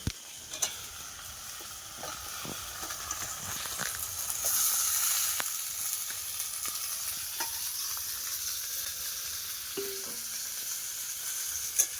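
Chicken meat sizzles in fried spice paste, a moderate steady hiss that swells midway, with occasional ticks and scrapes of stirring.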